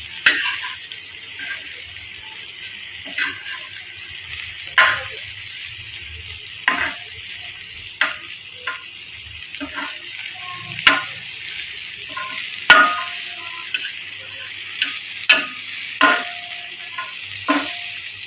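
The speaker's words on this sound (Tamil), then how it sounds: "இந்த தோசைக்கல்லில் போட்ட வெண்டைக்காய் வந்து நல்லா டார்க்காக பிளாக் கலர் மாதிரி ஃப்ரையாக இருக்குது" Okra pieces frying in oil on a flat dosa griddle, a steady high sizzle running throughout, punctuated every second or two by scraping and tapping as the pieces are stirred and turned.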